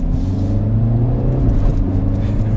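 A 2021 Kia Forte GT sedan accelerates, its exhaust giving a steady, fairly loud low rumbling drone with a slight rise in pitch, heard from inside the car.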